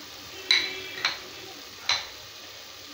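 Chili and coriander powder stirred into frying tomatoes for a mushroom biryani, three or four distinct spoon knocks against the pot over a faint background sizzle.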